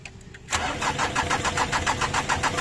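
A car engine cranks and catches after a brief quiet moment, then settles into a steady, close, loud idle with a rhythmic pulsing rumble.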